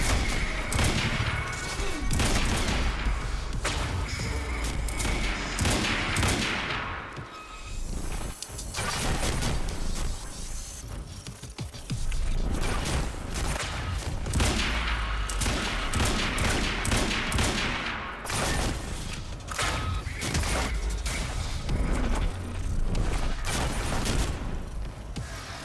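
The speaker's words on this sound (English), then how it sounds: "What the fuck is that dude firing? Is that a railgun? Oh no, those are rockets." In the video game Quantum Break an enemy fires rockets, producing dense bursts of gunfire, heavy crashes and booming impacts in sustained loud waves, with brief lulls between the barrages.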